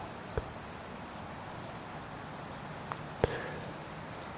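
Heavy rain falling outdoors at night, a faint continuous wash of hiss with a few sharp drips or taps standing out, with no talk.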